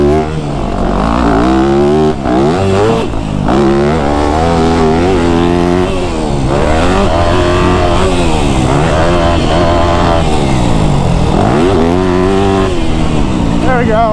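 Motocross dirt bike engine revving steadily throughout as the rider works through corners and gears, loud and close with rising and falling pitch sweeps; no one speaks.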